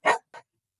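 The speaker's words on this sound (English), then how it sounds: "So you told her how to bark." A dog that is fearful, anxious and reactive barks on command, giving two quick close barks, a loud one then a softer one, followed by silence.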